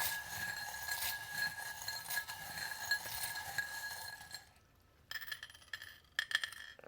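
Small metal charms clink and jingle as they are picked out, a busy rattling that thins to a quiet pause before a few more bright clinks close to the listener.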